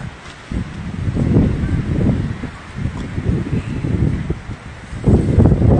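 Wind buffeting a microphone outdoors at Gyeongbokgung Palace in Korea, gusty low rumbling bursts that rise and fall throughout, loudest near the end.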